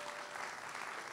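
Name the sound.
congregation applause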